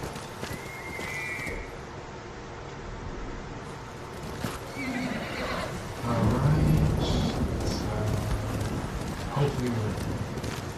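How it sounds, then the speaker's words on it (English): A horse in the video game Ghost of Tsushima whinnies and clip-clops along at a steady pace, with game ambience around it and someone talking over the top. "He is not, this horse is not Kage"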